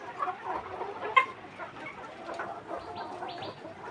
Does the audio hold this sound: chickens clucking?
yes